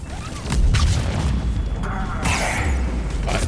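Heavy booms and blasts go off in the Mass Effect 3 video game, a deep explosion rumbling near the start and a second burst later, layered over ongoing combat noise.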